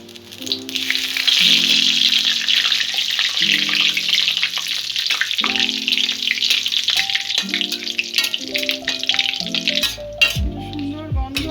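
Bay leaves dropped into hot oil in a pan sizzle and crackle steadily, a bright close frying hiss, with faint stirring and clinks of utensils alongside.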